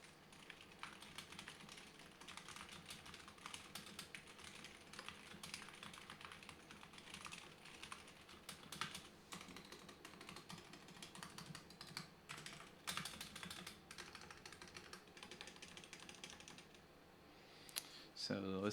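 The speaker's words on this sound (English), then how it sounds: "now here is the sound test of the keyboard" Rapid, continuous typing on a gaming keyboard up close, a dense clatter of key presses that runs steadily for the whole stretch.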